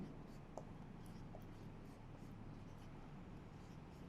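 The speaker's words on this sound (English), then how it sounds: "So let's write that." Someone writes on a board in a quiet classroom setting, producing faint, scattered scratchy strokes over steady low background noise.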